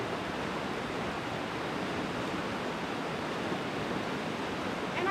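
Heavy rain pouring outdoors beside a flooded river, a steady dense hiss that stays constant throughout, fairly faint and with no voices.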